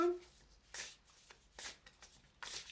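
Oracle cards being shuffled and drawn by hand: three or four short, crisp riffling bursts spaced about a second apart, close and fairly quiet, with no talking.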